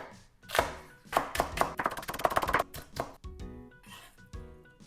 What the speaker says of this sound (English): So the scallion, take the top and bottom off. Then I'm gonna cut this in thin slices.